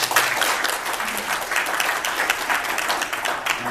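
An audience at a Korean-American business friendship forum applauds a guest lecturer, a sustained, even wash of many hands clapping for several seconds with no talking over it.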